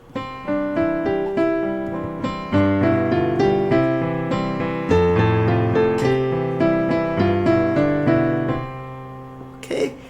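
Solo piano plays flowing broken chords, notes rolling up and down in a steady rhythm with a sustained, resonant tone; no voices.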